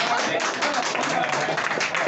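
Comedy show audience applauding, with dense continuous clapping from a crowd that stays steady and fairly loud throughout the short burst.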